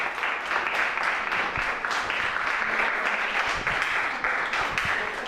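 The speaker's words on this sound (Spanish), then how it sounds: "Un aplauso, por favor," Audience applause in a school auditorium welcoming a science writer and editor before her talk, a dense continuous wash of clapping at moderate distance, steady without break.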